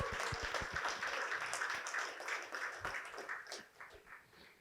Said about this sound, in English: Give me another big round of applause, ladies and gentlemen